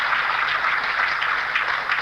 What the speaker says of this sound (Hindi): अरे जोरदार तालियां अपने लिए।